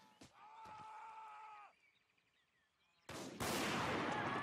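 Rifle shots ring out in a Blood & Iron video game battle, a harsh loud burst of gunfire at the end following quieter tonal sounds and a lull.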